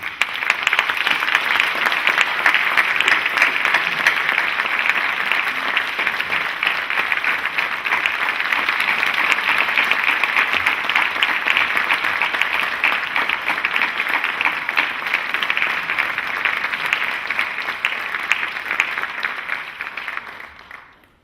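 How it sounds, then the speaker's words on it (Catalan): An audience applauds a guest at a live radio program, a dense, sustained round of clapping that holds steady for about twenty seconds before fading out quickly, with no voices over it. "Un aplaudiment."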